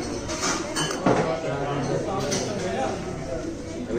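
A spoon clinks and scrapes against a plate while mixing food during a flight, several light metallic taps under steady cabin hum as people talk nearby.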